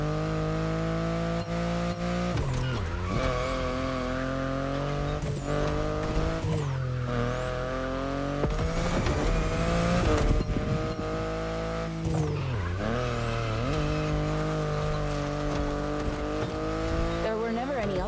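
A BMW i8 sports car driving in The Crew Motorfest, its engine note steady and loud throughout with pitch sweeps as it shifts and revs, plus brief tire squeals, under continuous music and narration.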